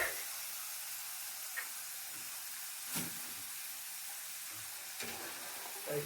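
Potato french fries frying in hot oil give a soft, steady sizzling hiss with a few faint pops scattered through. The sound stays low and even throughout.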